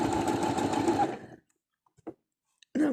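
A sewing machine stitching a 3-step zigzag runs close and steady for just over a second, then stops, leaving a few faint clicks and a brief mechanical clunk before it starts up again at the end.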